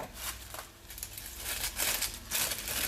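Scissors slice through a sheet of greaseproof paper to make a cartouche for a saucepan, a close, quiet crisp crinkling and snipping in several short bursts with no talk.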